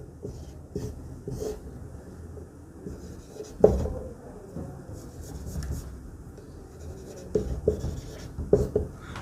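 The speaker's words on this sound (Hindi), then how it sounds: "सबसे पहला कि हम एक श्लोक लिखेंगे" Pen or chalk writing out a Sanskrit verse: quiet scratching strokes with irregular pauses, a few sharper taps, and soft breathing close by, with no talking.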